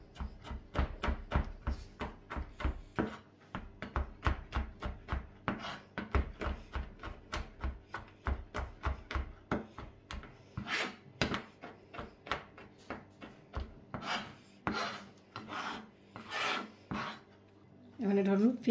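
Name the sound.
chopping soaked almonds into small pieces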